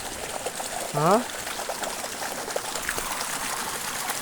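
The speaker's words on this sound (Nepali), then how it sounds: "खोला पनि हल्का बढिरहेको छ होइन, पानी आयो भने त खोला बढ्छ है।" A steady flowing stream babbles in the background, with a brief voiced sound breaking in early on.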